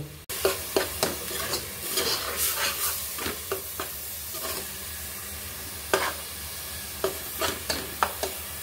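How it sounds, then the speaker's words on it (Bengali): A spatula stirs and scrapes spice paste with fresh coriander in a hot pan, repeated sharp strokes over a steady close sizzle of frying. "এভাবে কিন্তু আমি অনেকক্ষণ ধরে ভালো করে নেড়ে নেড়ে"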